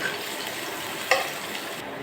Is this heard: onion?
yes